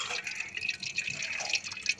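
Liquid drips and trickles steadily from pressed coconut during homemade coconut oil extraction, with soft close splashes repeating irregularly and nobody speaking.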